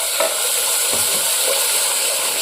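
Masala of red chili powder, turmeric and bay leaf frying in oil for Kolhapuri misal, giving a steady, close sizzle and hiss throughout with a few faint stirring knocks.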